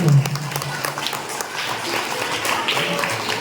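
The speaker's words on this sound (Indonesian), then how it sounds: "Sekali lagi tepuk tangan untuk Rihanna Hafizah Maktum" Audience applause at a Halal Bi Halal gathering of the Al-Hikmah Akbar Islamic education foundation in Samarinda, a steady crowd clapping that fills the whole stretch at moderate level with some voices mixed in.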